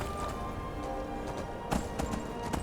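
Horse hooves clip-clop in Skyrim, a steady walking rhythm of soft thuds under ambient game sound, with a few louder hoof strikes near the end.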